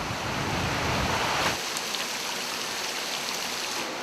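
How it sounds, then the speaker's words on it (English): Rushing water from a waterfall pouring over a rocky riverbed in the Amazon, a steady broadband roar that drops in its low rumble partway through, leaving a continuous hiss with no voices. "there's a river falling, flying,"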